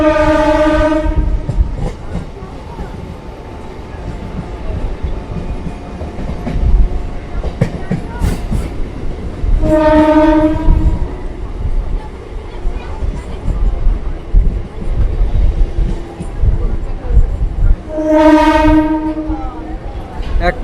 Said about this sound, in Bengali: কাটোয়া বর্ধমান নতুন লোকাল ট্রেন এই মুহূর্তে বর্ধমান জংশনের আট নম্বর প্ল্যাটফর্মে প্রবেশ করলো